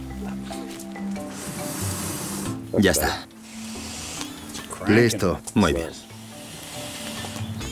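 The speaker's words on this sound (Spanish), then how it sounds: "No me puedo creer que hayas echado agua sobre el fuego." A campfire doused with water hisses and sizzles in a steady stream, with people talking over it in bursts.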